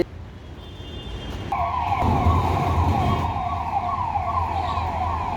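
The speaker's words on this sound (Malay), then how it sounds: "ambulans." An ambulance siren on a road starts suddenly and sounds a loud, sustained wailing tone close by, over traffic and engine rumble.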